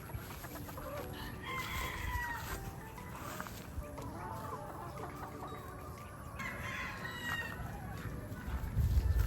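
A Sweater Kelso gamecock rooster crows on a farm, with several crowing calls and clucks from nearby fowl rising over a busy outdoor background, fairly faint and distant overall.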